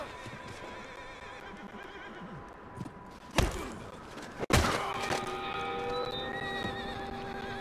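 A horse in the video game Red Dead Redemption 2 whinnies with a wavering, high-pitched call, followed by sharp thuds and impacts, over a steady ambient backdrop.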